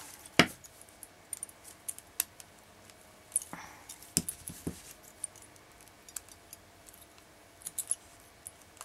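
Small scissors snipping off the thread ends of a beaded kumihimo bracelet, with a series of sharp, close clicks and snips scattered irregularly over several seconds with quiet pauses between them.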